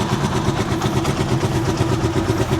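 A Rusi Chariot 175 motorcycle engine idles steadily up close, with a continuous even rumble and a faint regular pulse running throughout and no talking.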